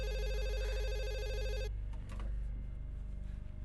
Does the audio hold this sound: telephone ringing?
yes